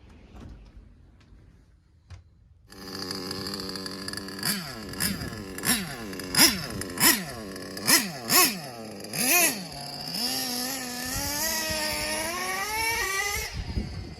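A Traxxas T-Maxx nitro RC truck's small engine starts up loud and close, then revs in a series of about eight sharp rising bursts before settling into a steady high-pitched buzzing idle.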